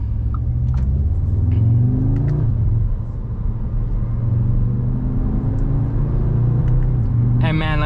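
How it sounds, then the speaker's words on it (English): Cabin view of a 2025 Audi S3 Premium Plus accelerating, with steady engine rumble and a rising whir as the turbocharger spools up, loud and continuous throughout, ending in a brief hiss. "you can actually hear the turbocharger spewing up from inside the cabin"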